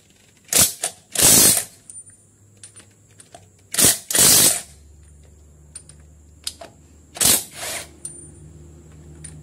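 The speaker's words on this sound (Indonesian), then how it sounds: "Jadi kita buka menggunakan cordless impact wrench lah," A cordless impact wrench removes tyre wheel nuts in several short, loud hammering bursts separated by pauses, with quieter clicks and handling noises between them.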